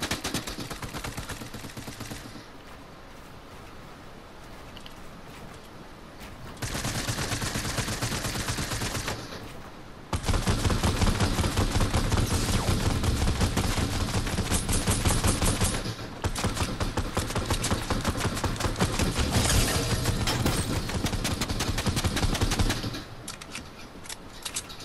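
Sustained rapid gunfire from Fortnite play rattles loud and close in long continuous bursts, separated by a few brief quieter stretches with no talking.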